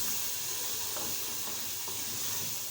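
Chickpeas roasting with spices in a pan for chana tikki give off a steady, hissing, steamy sizzle. It is fairly quiet and continuous throughout, with no speech.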